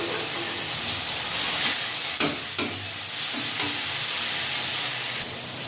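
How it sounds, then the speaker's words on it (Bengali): Spice paste of ground ginger, cumin and coriander frying in oil, a steady dense sizzle with a couple of sharp utensil knocks and stirring scrapes, close and moderately loud, with no talk. "দিয়ে ভালো করে মশলাটা কষে নেব।"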